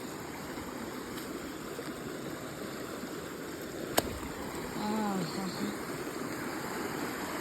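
Steady broadband rush of flowing water, like a stream or waterfall, continuous throughout with a brief sharp click midway.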